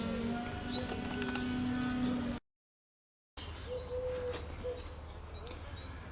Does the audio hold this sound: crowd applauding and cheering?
no